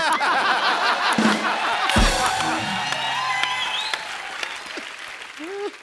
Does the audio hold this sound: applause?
yes